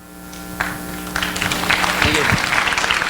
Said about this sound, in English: There's a lot of claps for the guys that put the event on